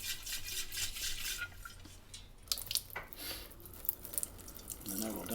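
Methyl hydrate alcohol sloshing inside the metal fount of a 1950 Coleman 220D lantern as it is shaken, giving quiet irregular splashes and liquid swishes with small clanks, close by and fairly faint.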